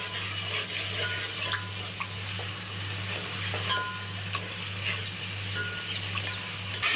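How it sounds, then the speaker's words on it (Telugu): Ginger paste sizzling and frying in a pan of chicken masala for biryani, a constant crackling hiss with occasional scrapes and light clinks of a spoon stirring, steady and close with a low hum underneath. "ఫ్రై అవనిద్దాం."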